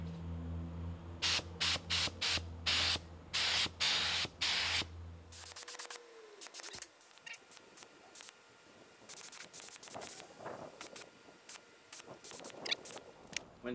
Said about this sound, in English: now we need to dial the gun in. Paint gun.